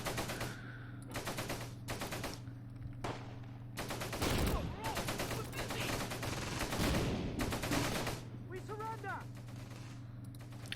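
Close Combat troops exchange gunfire: repeated bursts of machine-gun fire and scattered shots over a constant low hum, growing denser toward the middle.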